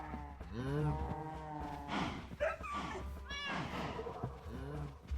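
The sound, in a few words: cows mooing in the video game Minecraft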